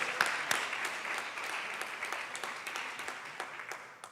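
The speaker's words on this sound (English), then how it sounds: "Let's give you guys all a round of applause" Applause for high school juniors at an academic awards ceremony, a steady wash of many hands clapping that holds evenly throughout, with no talk over it.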